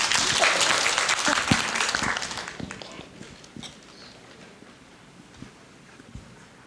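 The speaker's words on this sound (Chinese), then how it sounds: "大家掌声欢迎" Audience applause welcoming a speaker at a children's song event, clapping from a crowd that starts full and dense, then thins out into a few scattered claps and quiet room noise.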